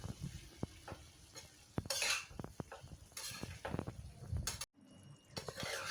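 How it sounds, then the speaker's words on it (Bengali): Poppy seed paste being stirred into potatoes in a pan for Bengali aloo posto, with close scraping and clinking of utensil against cookware in irregular strokes, soft sizzling beneath, and a short silent gap near the end. "পোস্তটা আমি ভালো করে নাড়িয়ে আলুর সাথে মিশিয়ে দেব।"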